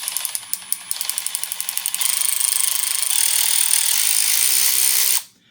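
A SeeSii cordless power ratchet wrench runs, first clicking in slow rapid pulses, then spinning up into a steady high mechanical whir before stopping abruptly; close and loud, no talking.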